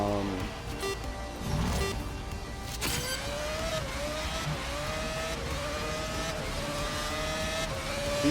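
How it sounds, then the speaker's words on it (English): Formula 3 style junior open-wheel race cars in the GRID Legends video game drone loudly and continuously, with engine pitch rising and shifting through gear changes as cars run close together. A voice talks over the engines. "junior circuit cars, Formula 3 like cars, something."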